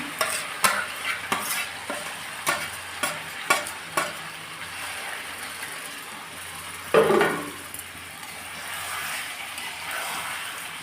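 Marinated chicken stirred in a hot pan for a green-coriander chicken masala: a steady close sizzle with repeated sharp scrapes and clacks of the spoon in the first few seconds, a louder stir near seven seconds, then frying continuing alone.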